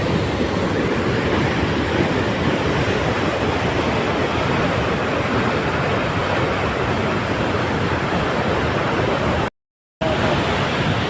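A loud, steady roar of water gushing from the open gates of the Pattiseema lift irrigation scheme pours on without pause, dense and close, with a brief cut in the sound near the end.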